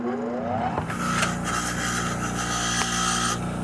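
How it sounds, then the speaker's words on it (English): A bench grinder cleaning up the threads of a truck J-bolt on a Ford F150 makes a steady, loud, rasping scrape, with a motor tone underneath, running continuously for a few seconds. "Hit it up on the bench vise"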